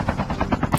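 A helicopter in the video game Call of Duty Mobile thuds in a quick, steady rotor rhythm at moderate loudness for under a second, with faint gunfire-like clatter mixed in.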